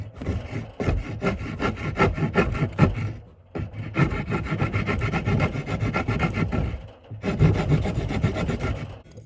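A wooden crankbait lure being shaped with a hand rasp: close, steady back-and-forth scraping strokes in three long runs, separated by brief pauses, with no talking.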